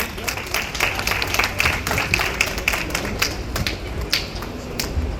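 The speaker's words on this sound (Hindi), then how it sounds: "एक बार जोरदार तालियों से इस बच्चे का प्रोत्साहन करें" Audience at a Holi cultural programme clapping loudly and enthusiastically, a close, continuous burst of many hands with sharp individual claps standing out, running the whole length without speech.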